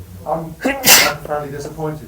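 A person sneezes once, loud and sharp, in the middle of someone speaking at a film Q&A, with talk continuing right around the burst.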